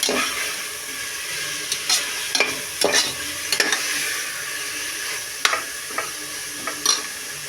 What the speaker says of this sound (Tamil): இதை நான் போட்டு நல்லா வதக்கி விடுங்க நல்லா அந்த பச்சை வாசனை போகணும்